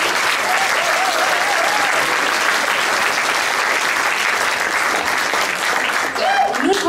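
A concert crowd applauds loudly and steadily for a dance group at a TenSing youth show in Moers, a sustained wash of clapping with a few faint cheers and voices rising near the end.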